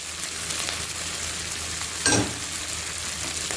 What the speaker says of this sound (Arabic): شوحنا البطاطس، هنزل بالجزر.